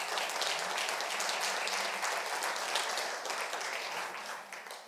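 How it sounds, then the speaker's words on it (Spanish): A church congregation at a Spanish-language service breaks into steady, dense applause, sustained and fairly loud before tapering off slightly at the end. "Démosle un aplauso al Señor"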